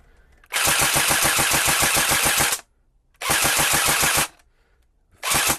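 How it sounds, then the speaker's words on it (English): An AA R85A2 (L85) airsoft rifle firing with working blowback, loud rapid full-auto bursts of sharp mechanical clacks in three strings, two long and one short, separated by quiet gaps. "We even have working blowback."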